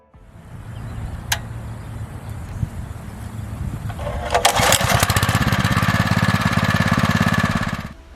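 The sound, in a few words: motor cultivator tilling dry soil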